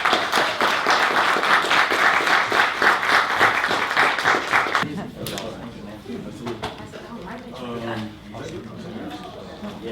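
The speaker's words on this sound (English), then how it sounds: "Give these guys a round of applause." Audience applause at the close of an independent filmmaking talk: dense, loud clapping for about five seconds, then thinning into scattered claps and murmuring crowd voices.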